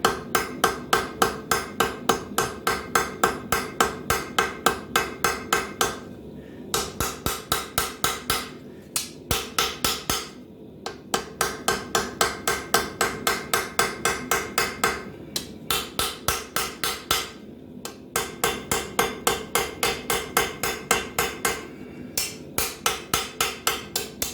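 Cross peen hammer shaping a knife blade on an anvil, a long run of steady, rapid metallic strikes close up, broken by short pauses between bursts of blows.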